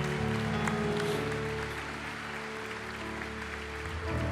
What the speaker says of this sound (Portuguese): Aplauda ao Senhor, hoje é dia de salvação